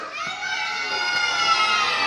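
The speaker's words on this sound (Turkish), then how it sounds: "Ben hazır mıyız diye sorduğumda bir çığlık atın hep beraber." A crowd of kindergarten children at an end-of-year school show scream together in one sustained, bright, high-pitched cheer that stays steady and loud for about two seconds.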